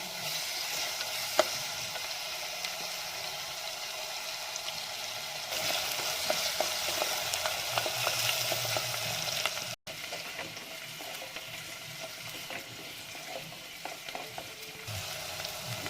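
Onions and green chillies fry in a pan for a mushroom curry, giving a steady close sizzle with occasional stirring scrapes, briefly cutting out midway before the sizzling resumes.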